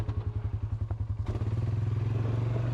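A 2023 Polaris Sportsman 570 ATV rides at an ORV park, its engine beating loud and close in rapid, regular pulses that speed up into a smooth, steady drone as it accelerates.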